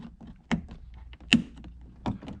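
A plastic trim cover on a Honda Fit door snaps into place, giving several sharp, close thunks and clicks spaced about a second apart, with lighter handling taps between.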